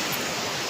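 Sea surf washing onto a beach at night, a steady broadband roar of breaking waves, close and fairly loud with no voices.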